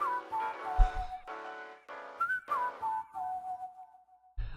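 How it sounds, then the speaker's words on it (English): A whistled melody closes a K-pop song, a clear sustained tone gliding between sustained notes over layered backing music, loud and upfront with no talk. "I could have taken that whistle melody at the end there for minimum another, another bar"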